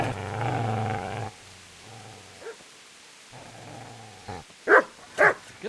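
A dog barks and growls in the medieval game Kingdom Come: Deliverance, a sustained low growl first, then quieter rumbles, ending in two loud sharp barks close by.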